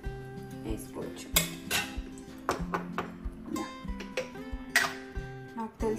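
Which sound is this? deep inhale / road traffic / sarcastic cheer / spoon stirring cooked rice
spoon stirring cooked rice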